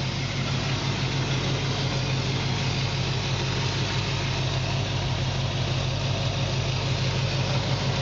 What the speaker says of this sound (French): Voilà, ça tourne bien, c'est rond, c'est un bon ralenti.